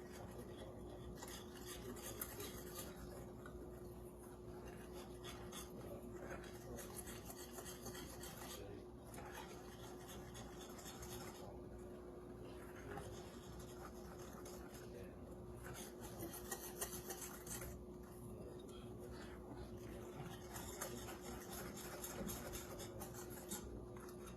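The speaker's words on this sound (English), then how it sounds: "we're going to add our wet ingredients, which is 1 cup of milk, whisk that together" Milk is whisked into pancake batter ingredients in a bowl, giving a continuous, rhythmic scraping and swishing that runs through the whole stretch, faint and close, with a steady background hum.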